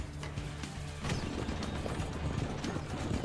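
In Assassin's Creed II, rapid horse hoofbeats clatter under a dense rumbling wash of noise, with creaking and rattling of a moving carriage.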